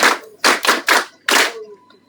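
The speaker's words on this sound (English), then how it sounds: "Maybe you can clap for the defense forces led by Mozi." An audience at a ministerial gathering bursts into short, sharp rounds of hand clapping, four quick loud bursts, then a pause and a final burst, close and loud.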